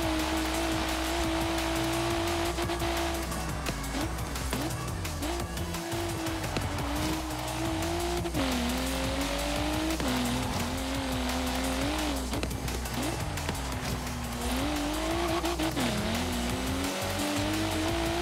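A car engine revs hard and climbs through the gears in Forza Horizon 3, with tire squeal as the rear steps out. The loud, sustained roar dips and rises with each shift and runs continuously with no talk.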